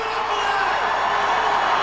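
Spectators at a 2004 strongman competition, the World Muscle Power Championships, cheer and shout in a loud, continuous crowd roar during a lift.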